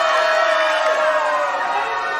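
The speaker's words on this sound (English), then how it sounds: "big, excited crowd." A big, excited crowd cheers and whoops at a live wrestling show in the Battlefield Performance Center, a loud, sustained roar of many voices that fills the whole stretch without a break.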